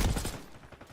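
Gunfire in a Call of Duty esports match comes as a quick burst of rapid shots that fades within a second.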